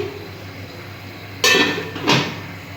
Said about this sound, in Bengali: আমি এখন ঢাকা দিয়েছি